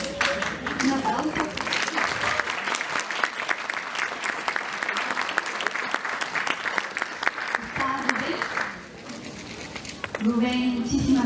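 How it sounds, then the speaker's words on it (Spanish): An audience at a talk on money and prosperity bursts into sustained applause, dense and loud for most of the time before easing off near the end as a voice comes in. "Un aplauso."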